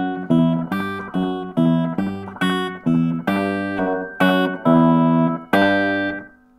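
An electric guitar plays one bar of a riff, with slides, picked notes and an open string, in a run of about a dozen crisp, evenly spaced notes, loud and close with no voices.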